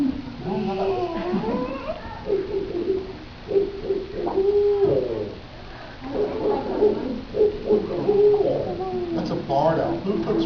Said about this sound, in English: That's a barred owl